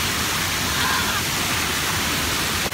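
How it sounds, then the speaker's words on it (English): Broad, constant rush of a large fountain splashing heavily nearby, a dense hiss that hardly varies from start to finish. "we are next to this big water fountain"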